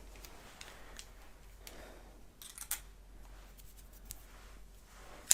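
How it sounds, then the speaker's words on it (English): Scissors snipping quietly in the air near the listener, a few sparse soft clicks and a sharper close snip at the end, over a faint hushed room background. "So we have our scissors to cut away."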